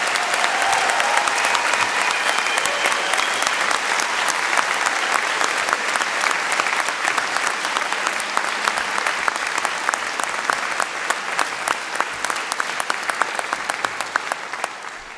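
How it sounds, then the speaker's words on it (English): A large audience at a university graduation ceremony for art, design and media students claps loudly and continuously, a dense sustained applause that fades slightly at the end. "That was a great round of applause"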